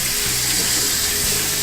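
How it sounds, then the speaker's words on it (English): Cold water running from a kitchen tap into a pot during soup preparation, a steady broadband rushing stream that continues unbroken from start to finish with no talking. "Because putting cold water in there"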